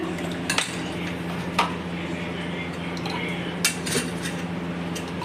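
Raw mango aam panna drink being spooned into glasses, with a few light clinks of a spoon against glass over a steady hum of room noise.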